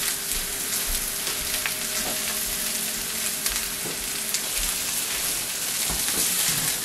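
Steak searing in a hot pan gives a loud, steady, close sizzle and crackle that runs without a break. Occasional brighter pops rise above it, and no one speaks.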